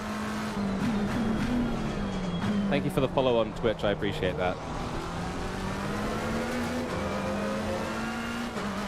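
Race car engines in the Assetto Corsa Competizione racing game, a sustained droning engine note with rising and falling revs and a brief burst of rapid gear shifts, heard under someone talking.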